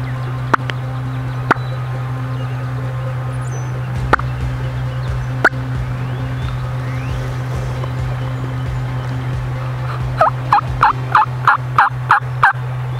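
A wild hen turkey calling on a farm during a bowhunting hunt, a few isolated clucks followed by a quick, evenly spaced run of loud yelps near the end over a steady low hum.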